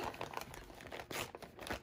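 Crinkly tearing and rustling of embroidery stabilizer being pulled away by hand, several short rips in quick succession, quiet and close.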